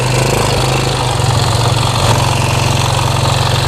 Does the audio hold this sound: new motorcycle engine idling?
yes